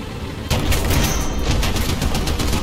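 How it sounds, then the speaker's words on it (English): Sustained machine gun fire from a tank video game starts abruptly and continues as a dense, loud stream of rapid shots, with no voices heard. "He's dead, I killed him with the machine gun."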